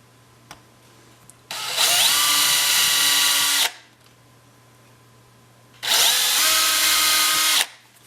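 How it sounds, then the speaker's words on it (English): A power drill whirs in two separate bursts of about two seconds each, loud and close, with its pitch dipping slightly as the bit bites into hard purpleheart wood. "Drill my 2 holes, making sure I don't go too deep."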